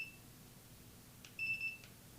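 A photography turntable's remote sounds a high electronic beep briefly, then a longer steady beep follows after a pause, faint against quiet room noise.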